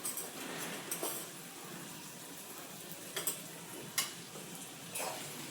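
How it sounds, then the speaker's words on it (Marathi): Asafoetida and masala fry in a pan for vegetable fried rice, giving a faint, steady sizzle broken by a few sharp clicks and taps of stirring. "मी एकदा फ्राय करून घेते"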